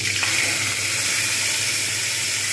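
Ridge gourd peel paste hits hot oil in a pan already holding garlic paste and sizzles loudly. The steady, close hiss stays unbroken throughout.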